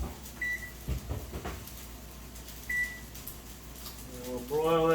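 A kitchen oven timer being set, giving short high electronic beeps a couple of times, with soft kitchen handling noises and a final longer tone at the end.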